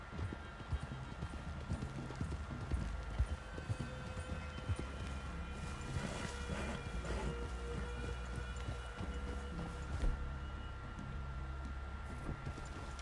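Steady horse hooves clip-clopping at a walk in the video game Red Dead Redemption 2, mixed with ambient outdoor noise and faint rain-like patter, no clear speech.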